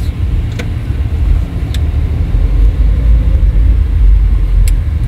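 A Maruti Suzuki SX4 car drives over speed breakers on a city street, heard from inside as a steady, loud low rumble of road and engine noise with faint brief knocks.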